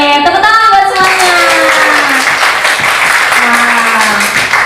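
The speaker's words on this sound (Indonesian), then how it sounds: "Oke, tepuk tangan buat semuanya." Class 10-7 students clapping in a classroom, a loud, dense burst of hand claps running throughout while a voice talks and sings over it.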